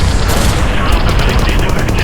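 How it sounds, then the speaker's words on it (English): Dense, continuous machine-gun fire from Ki-27 fighter planes roars without a break, a loud barrage of rapid shots layered over booming rumble. "A barrage of gunfire erupts across the Thai skies"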